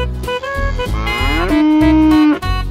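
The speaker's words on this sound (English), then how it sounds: "Cow." A cow gives a long, drawn-out moo that rises and holds, set against a loud, thumping children's song backing in a farm-animal sequence.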